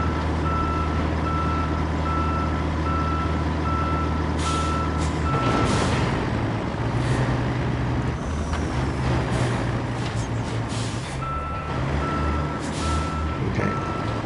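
A truck in a video game reverses toward a rail car, its reversing alarm beeping in a steady repeating pattern over a loud idling engine rumble and a hiss like air brakes, with no talk.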